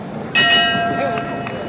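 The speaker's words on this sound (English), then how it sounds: "And there's the bell." A boxing ring bell rings sharply to end round one of the Muhammad Ali vs Jimmy Ellis fight, a bright metallic clang that lingers and fades over crowd noise and commentary.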